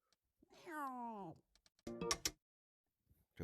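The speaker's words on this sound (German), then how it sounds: "Eine Katze." A single cat in a Meta Quest 3 pets game gives a clear, drawn-out meow up close, followed by a short burst of clattery clicks, then near silence.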